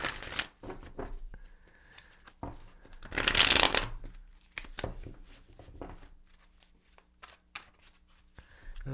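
Tarot cards are shuffled by hand in soft bursts of riffling and sliding, with one louder riffle in the middle, quiet and close.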